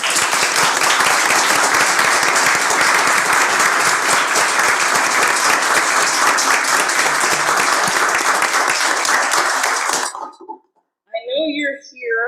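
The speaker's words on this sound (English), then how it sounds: "I'd like to have a round of applause of thank you for our student" A school board meeting audience gives sustained applause, a thick continuous clatter of clapping for about ten seconds that stops abruptly, followed by a brief bit of speech.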